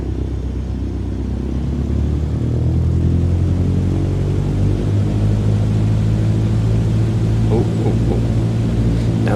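A steady, loud engine rumble drones throughout as an airplane taxis quickly in Microsoft Flight Simulator 2020, low and continuous with little variation.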